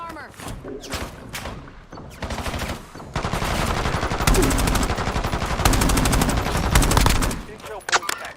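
Incoming machine-gun fire in a video game: sporadic shots at first, then a long, loud stream of rapid automatic bursts lasting several seconds before cutting off.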